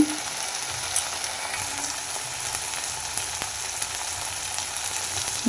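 Spice paste frying in oil for a Bengali cauliflower curry, a steady close sizzle with occasional stirring clicks, alone without talk.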